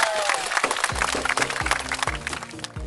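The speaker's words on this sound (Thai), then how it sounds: "เก่งมากครับปรบมือให้ตัวเองด้วยครับ" Children in a classroom art lesson on nature prints clap for themselves, a short burst of scattered applause under a teacher's talking.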